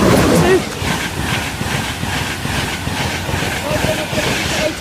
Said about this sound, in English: Now about to pass straight through platform number 2 at Northallerton will be your 1110 109 version train service from King's Cross to Edinburgh